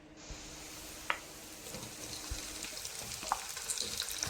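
Chopped onion and tomato frying in a pan with salt, a faint continuous sizzle with a few soft clicks of stirring, quiet and close with no talk.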